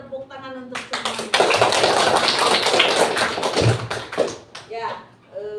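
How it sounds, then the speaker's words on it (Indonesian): Classroom applause from a group of students at a school guidance counseling session, a dense burst of clapping lasting several seconds with a teacher's voice heard around it. "tepuk tangan untuk semuanya"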